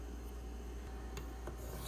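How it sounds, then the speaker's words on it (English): A Spyderco Manix 2 knife blade is drawn across an abrasive sharpening stone to polish the bevel, a close, continuous gritty rasp with a couple of brief stronger strokes. "So now that I'm getting this bevel polished"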